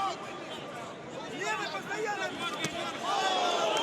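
Boxing arena crowd roaring and cheering after a punch by Dmitry Bivol in his fight against Lyndon Arthur, a broad swelling roar that builds toward the end, with commentators talking over it.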